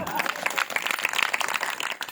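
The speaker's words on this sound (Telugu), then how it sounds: "చప్పట్లు కొడదామా?" Audience applause at a talk by a tabla player, a dense, lively patter of many clapping hands with a few voices mixed in, steady for a couple of seconds.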